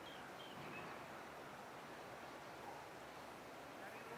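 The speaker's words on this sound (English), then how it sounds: "That you can hear that sacred water as it crashes upon the rocks in the riverbed." Steady, broad rushing of river water pouring over rocks in a riverbed fills the clip, a constant roar, with no distinct voices.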